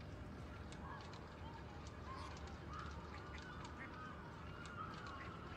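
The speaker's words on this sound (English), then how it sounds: "we got swans on this one" Swans honk intermittently at a lakeside fishing venue in Ultimate Fishing Simulator 2, faint calls scattered over a steady bed of low ambient water and wind noise.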